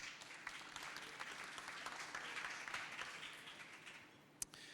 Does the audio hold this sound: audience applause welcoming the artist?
yes